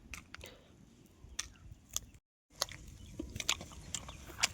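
Someone close by chews pieces of fried chicken cooked outdoors on a rock slab, testing whether it is done. Moist, crunchy bites and chewing clicks repeat irregularly, with a brief silent gap midway.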